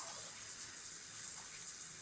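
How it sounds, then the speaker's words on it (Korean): A cold shower runs in The Sims 4 video game, giving a steady, even hiss of spraying water that continues unbroken throughout with no voices. "찬물 샤워."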